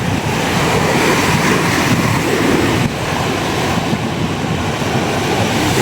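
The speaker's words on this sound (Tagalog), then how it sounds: "malakas na alon" Strong sea waves surging at a fishing area in Dagupan, Pangasinan, a loud, steady roar of surf with wind buffeting the microphone throughout and no voices.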